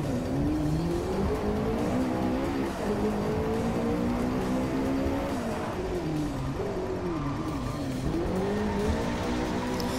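A car reversing after a drift in the DRIVECLUB racing game, its engine droning and whining as the pitch rises and falls, with a faint tyre squeal, loud and continuous.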